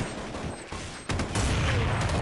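Gunfire in Counter-Strike 1.6, a dense burst of loud shots that sharpens and grows louder about halfway through, with no talk over it.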